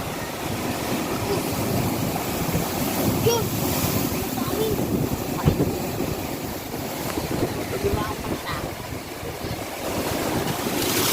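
Typhoon Dante drives strong wind and crashing ocean waves on the Camarines Sur coast, a rough, continuous roar with gusty buffeting against the microphone, and a voice is heard intermittently.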